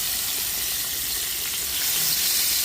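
Fried chicken sizzling in hot oil while cooking outdoors in a backyard, a steady loud hiss and crackle with no pauses.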